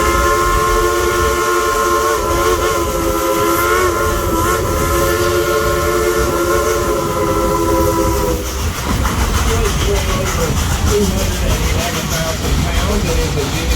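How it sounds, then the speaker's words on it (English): A coal-fired narrow gauge 2-8-2 MacArthur-style steam locomotive, engine 192 at Dollywood, sounds its whistle in a long sustained blast, then cuts off, leaving the loud chuffing rumble of the engine and cars rolling past. "a genuine coal-fired steam-driven Type 282 locomotive engine"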